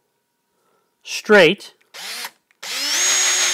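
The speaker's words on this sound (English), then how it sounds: "I start by first drilling the hole" A power drill bores a starter hole in wood for a carpenter bee trap, with short bursts after a spoken word and a sustained whine at the end.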